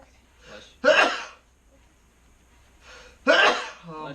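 Two separate sneezes, each a sharp broadband burst with a short breathy lead-in, about two and a half seconds apart and close to the microphone, with quiet room noise between them and no talk over them.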